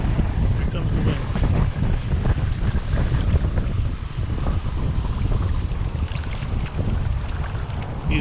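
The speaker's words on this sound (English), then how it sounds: "Here comes the wind." Strong wind buffets the microphone on a fishing boat at sea near a jetty in western Long Island Sound, a steady loud low roar with gusty rumble throughout and faint boat and water noise underneath.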